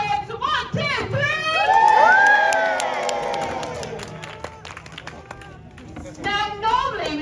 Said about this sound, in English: a great big cheer for Callum